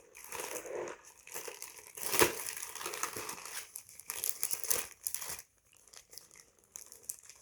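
A sheet of stickers crinkles and crackles as hands handle it up close, in bursts of rustling with brief pauses and a sharper crunch near the middle.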